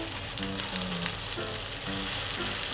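An abura-age tofu pouch stuffed with egg and cheese fries in a pan, giving a steady close hiss of sizzling oil with faint crackles and no talk.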